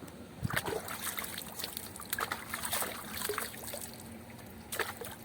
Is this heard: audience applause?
no